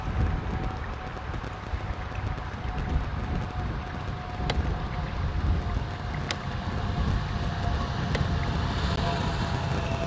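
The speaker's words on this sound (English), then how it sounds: "This is a KLM City Hopper landing in just now from Embraer" A KLM Cityhopper Embraer E175 lands at Amsterdam Schiphol, a steady, fairly distant roar with a thin sustained whine, mixed with wind noise and a few sharp clicks.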